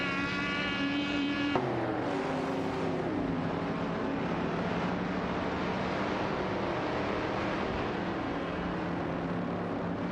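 Porsche 911 RS 2.7 and Alfa Romeo Giulietta racing game cars at the back of the pack, a steady loud engine drone with shifting pitch and a sudden gear change early on, continuous without talk.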